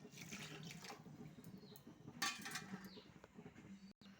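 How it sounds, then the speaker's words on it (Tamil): Two cups of water poured into a pan for cooking rava, a splashing, trickling pour of running water lasting a few seconds with small clinks in between. "இதில் 2 கப்பு தண்ணி ஊற்றிக்கணும்."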